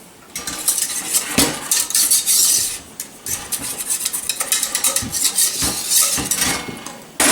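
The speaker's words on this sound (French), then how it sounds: "Je mélange super bien." A utensil stirs a thickening parmesan fondue mixture in a pot, with rapid, irregular scraping and clinking of metal against the pan throughout and no speech.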